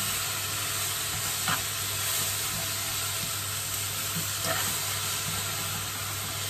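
Mince with leek and red pepper sweating in a pan over turned-down heat, giving a steady close sizzle and hiss with a couple of soft stirring scrapes, no talk.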